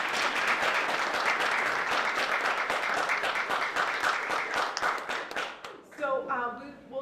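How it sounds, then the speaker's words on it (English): A board meeting audience applauds, dense clapping from many hands for about six seconds before it thins out and a voice begins speaking. "Let's give them a round of applause."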